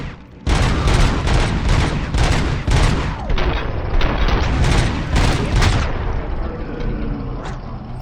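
Assault rifle fire from the video game Robocop: Rogue City, several loud, dense bursts of rapid shots and booming impacts over about six seconds, then a quieter tail with faint echoes.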